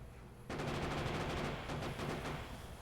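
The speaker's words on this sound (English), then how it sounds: "it's shooting the guns and the rockets" A VTOL aircraft in Factorio fires its guns and rockets, a sudden burst of rapid, continuous gunfire that begins abruptly and holds steady, loud and close.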